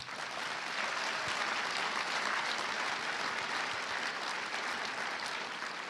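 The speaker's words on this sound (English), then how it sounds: "let's give a round of applause to the panel." Steady, dense applause from a large conference room audience for a panel at a journalism education convention, filling the whole stretch evenly with no speech over it.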